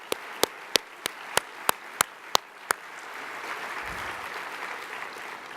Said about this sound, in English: please give them a large round of applause to show how much we appreciate their support.